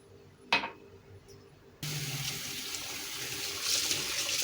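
Tap water pours steadily into a bowl of baldo rice being washed in plenty of water, starting after a brief clink and continuing as a constant close rush with no talk.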